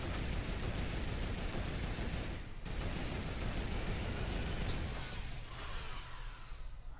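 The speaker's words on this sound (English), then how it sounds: "I'm just gonna shoot." Gunshots in the battle royale game Fortnite, a steady run of rapid, evenly spaced shots that continues loud and unbroken, pausing briefly once, then fading into a whooshing tail near the end.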